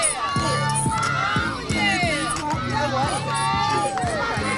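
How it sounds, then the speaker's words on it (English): A parade crowd lining a street cheers and shouts, with children's high-pitched yells and whoops over a rhythmic marching or drumming pulse from a passing routine group, close and lively throughout. "Give us a cheer."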